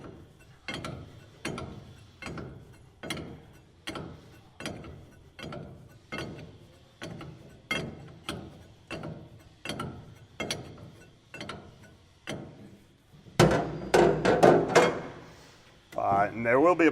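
A 1.5 wrench loosening a valve on a Bale Baron hydraulic valve bank makes steady, evenly spaced ratcheting clicks, about one per second and close up, followed by louder clattering metal handling near the end.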